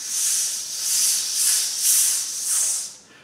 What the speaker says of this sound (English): one count breath in, and then four counts on a sizzle